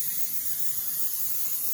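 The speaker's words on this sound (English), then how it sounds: "cooking spray." Cooking spray hisses onto silicone muffin liners in one continuous close spray lasting under two seconds.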